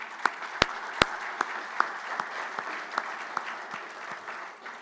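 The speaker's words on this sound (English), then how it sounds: "give them another round of applause if you wouldn't mind" A morning event audience gives a round of applause: steady, moderate clapping from a crowd, with a few sharp louder claps standing out close by, continuing evenly throughout.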